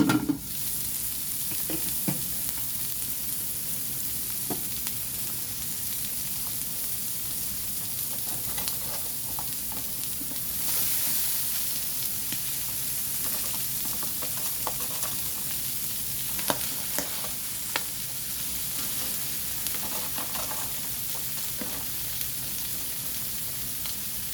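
Sotanghon glass noodles and cabbage being stirred in a hot pan, a steady sizzling fry running throughout with scattered scrapes and clinks of the utensil against the pan, close and fairly loud with no talking.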